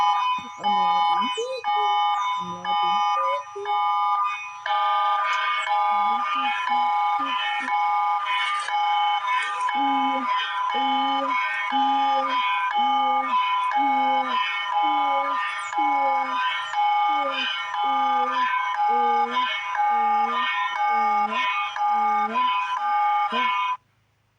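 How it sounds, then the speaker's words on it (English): Emergency Alert System alarm tones blare loudly and continuously, a harsh pulsing multi-tone signal repeating in steady bursts for over twenty seconds before cutting off abruptly. "This is an actual alarm."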